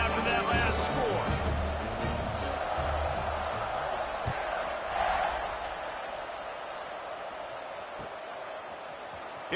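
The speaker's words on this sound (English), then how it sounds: "this crowd is buzzing after that last score" A stadium crowd in a college football video game sends up a broad, steady buzzing roar beneath a commentator's voice, swelling briefly before settling into a softer, sustained murmur.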